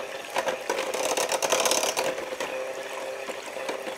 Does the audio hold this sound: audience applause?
no